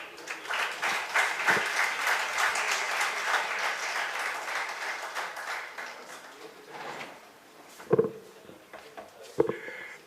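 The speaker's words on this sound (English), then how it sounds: "Another round of applause for the Lord Mayor." Crowd applause for the Lord Mayor at a public gathering, steady, moderately distant clapping that fades after several seconds, followed by a couple of sharp knocks and a faint voice.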